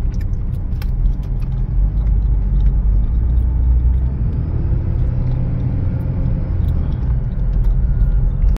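A 2013 Toyota Prius V hybrid drives along smoothly, giving a steady, loud low road rumble and engine hum throughout with no shudder or rattle standing out.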